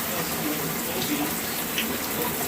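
Cold water pours steadily from a rain shower head, a dense, even hiss of spray with no pauses, close and fairly loud.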